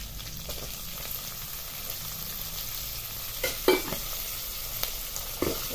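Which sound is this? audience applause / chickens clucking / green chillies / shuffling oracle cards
green chillies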